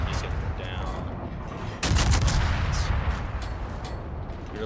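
Naval gunfire in a World of Warships battle aboard the destroyer USS Hull: dense, continuous rumbling booms and blasts that swell louder partway through, forming a heavy, chaotic barrage.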